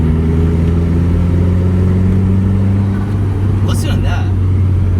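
A Dodge Neon SRT-4 engine under way, a loud, steady mid-pitched drone with a slight rise and a brief higher whine near the end, heard from inside the car with a voice present.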